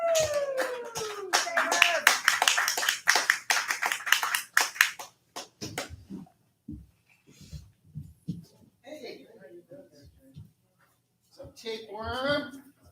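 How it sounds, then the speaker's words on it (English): Audience applause welcoming a performer to the stage at a cabaret-style show, a burst of sparse, scattered clapping for about five seconds that gives way to talking and chatter. "Give him a round of applause."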